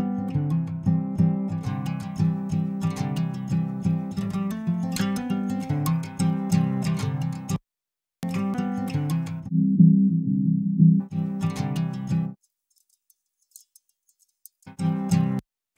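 Strummed guitar in a song mix, processed with a strong high-end EQ boost from a Waves SSL EV2 channel plugin, playing steady and full with brief dropouts and a short pause near the end.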